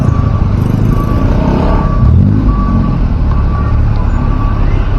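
Loud, constant drone of idling and creeping engines on a jammed road at night on the Padang–Bukittinggi route in Indonesia, with a truck's reversing beeps repeating throughout.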